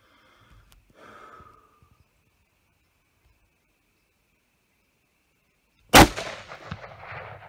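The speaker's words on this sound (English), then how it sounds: "Okay, so I just shot that boar that was out there eating that corn." A rifle shot fired at a boar feeding on corn during a Texas hunt cracks loudly and suddenly after a long quiet stretch, with a brief rumbling echo trailing behind; some faint breathing and movement come before it.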